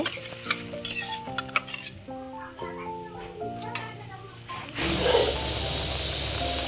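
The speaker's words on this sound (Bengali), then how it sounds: "তো এই ঝোলটা যতক্ষণ না ফুটছে ততক্ষণ একটু জাল দিয়ে নেব।" Spiny gourd (kakrol) curry with added water heating in a pan for a vegetarian dish; a bubbling, sizzling hiss swells in the last couple of seconds after a stretch of background music with faint kitchen clatter.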